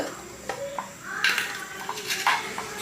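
A pan set down on a stove, close metallic clatter and scraping knocks in a kitchen while making a banana snack, with a few softer clinks afterwards.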